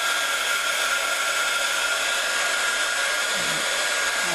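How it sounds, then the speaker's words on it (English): A crafting heat tool blows hot air in a steady, loud, unbroken whoosh close by, with no talking. "I'm using my heat tool. I'm just going to give it a second to heat up."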